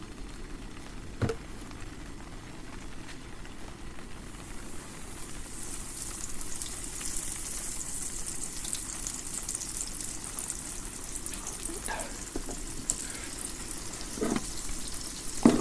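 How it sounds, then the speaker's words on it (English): A steady, close sizzle of paprika-seasoned chicken frying in a pan at a campsite, growing louder after a few seconds, with occasional clinks and scrapes of a utensil in the pan. "let's get this on the frying pan"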